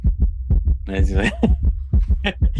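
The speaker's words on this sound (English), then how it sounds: "this is Nick's heartbeat when the next order comes in" Heartbeat sound effect played during a podcast, with regular low thumping beats that run steadily under a brief burst of speech and noise.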